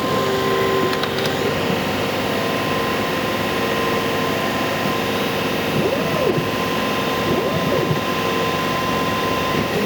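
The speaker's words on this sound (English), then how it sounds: "The air assist is kicked on, and the exhaust fan is now kicking on as well." A TOOCAA Nova laser cutter runs with its air assist and exhaust fan going, giving a steady, loud whooshing hum throughout, with a few faint rising-and-falling whirs from the moving head.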